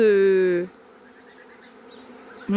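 Honeybees from a swarm buzz in a loud, steady drone for about half a second before dropping to a faint background hum, with the loud buzz returning briefly at the end; no one speaks.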